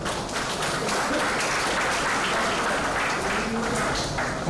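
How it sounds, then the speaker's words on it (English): Audience at a university engineering award ceremony in Kolkata applauding to welcome a guest, loud, dense and steady clapping that fills the whole stretch without a break. "Ladies and gentlemen, boys and girls, let's put a big round of applause."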